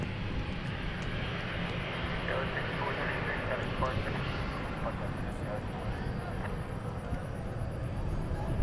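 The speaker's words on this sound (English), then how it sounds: "Our next departure, American 2931, going to Los Angeles." American Airlines jet departing DFW International Airport for Los Angeles, a steady engine roar at moderate distance, with a voice talking over it.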